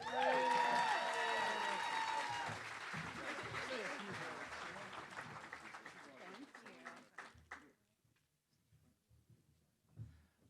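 Audience applause at a realtors' leadership academy graduation ceremony, loud sustained clapping from a large crowd that gradually thins out and trails off into a few scattered claps.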